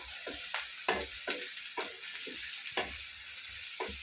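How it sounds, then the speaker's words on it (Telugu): Three large chopped onions fry in a pan, giving a continuous bright sizzle with a series of regular scraping stirs every half second or so, close and fairly loud, with no talking. "మూడు ఉల్లిగడ్డలు అడుగు వేసాను ఫ్రై చేసుకున్నాము"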